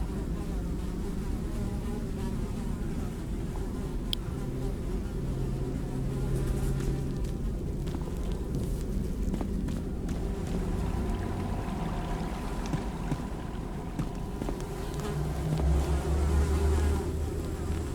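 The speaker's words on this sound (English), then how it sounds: "Despite the buzzing flies, you hear the faintest sound of rushing water" Flies buzz steadily inside a foul latrine in a fantasy video game, a dense continuous drone with a low hum beneath and faint rushing water, no talking.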